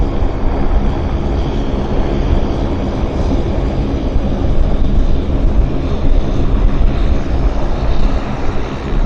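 An Air Canada jet bound for Calgary rolls down the runway for takeoff, giving a steady, loud broadband engine roar that holds level throughout with no voices over it.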